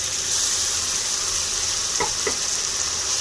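Frying spice paste of ground ginger, garlic, onion, tomato and chili crackles in a pan with vegetables, a steady hissing sizzle with a couple of brief stirring scrapes near the end.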